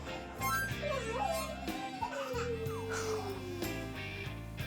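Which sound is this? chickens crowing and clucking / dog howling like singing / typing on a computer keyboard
dog howling like singing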